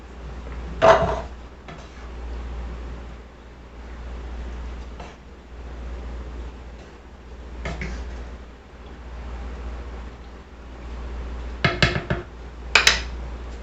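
Spaghetti puttanesca with a splash of brine being stirred in a single pot: sparse knocks and scrapes of a utensil against the pot, with quiet stretches between and a quick cluster of clinks near the end.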